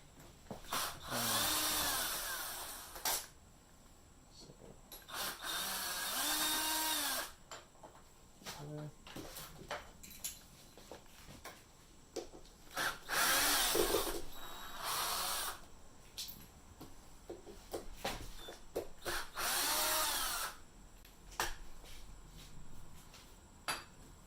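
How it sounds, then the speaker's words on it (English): A power drill backs the screws out of an old basic deadbolt in several whirring bursts of a few seconds each, close by, with quiet clicks and handling sounds between them. "I'm just going to use the drill to undo this lock real quick."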